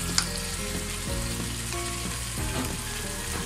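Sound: chicken meat frying in a pan for chicken soup

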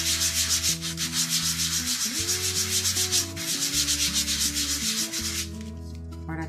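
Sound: sandpaper sanding in circular motion

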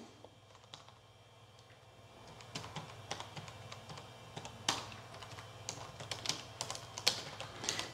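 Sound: typing commands on a PC keyboard

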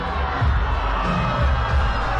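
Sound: baseball crowd cheering

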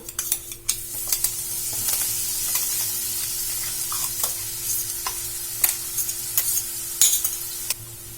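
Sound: ground masala frying and being stirred with potatoes

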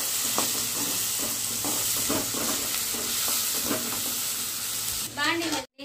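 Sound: onions frying in hot oil

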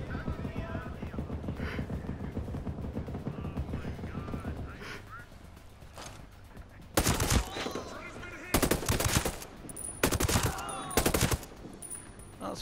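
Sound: gunfire from a video game, Ghost Recon Breakpoint

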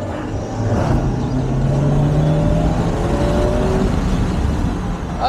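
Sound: car accelerating during a test drive

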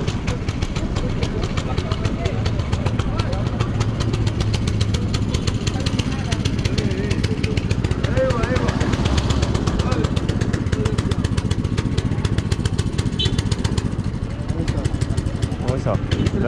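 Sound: motorcycle engine running

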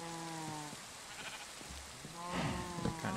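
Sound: sheep bleating in Minecraft video game

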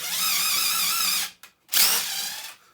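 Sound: cordless drill with DeWalt DT71517T angle adapter drilling

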